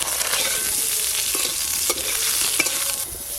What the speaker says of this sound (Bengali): তেলে একটু আমগুলো হালকা করে নেড়ে দেব।